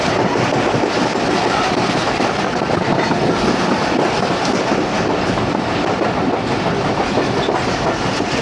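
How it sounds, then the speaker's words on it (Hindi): The Awam Express passenger train on the Lahore to Peshawar line gives a loud, continuous rumble with rhythmic clickety-clack of wheels over rail joints, close by and unbroken, with no talking. "आज तो प्रीमियम ट्रेन ग्रीन लाइन को रुकवा दिया और सबसे लो प्रायोरिटी ट्रेन ही मैं कहूँगा अवाम, उसको थ्रू पास करवाया।"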